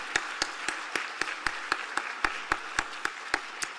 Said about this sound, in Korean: 한 번 더 격려와 감사의 박수 한번 부탁드리겠습니다